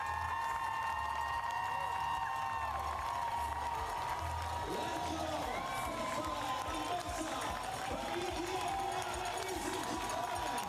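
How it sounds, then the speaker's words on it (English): Crowd lining the finish of the 2024 Ottawa International Marathon applauds and cheers the winning runner in a steady, dense roar, with an announcer talking over it throughout. "You can just hear the crowd calling him in."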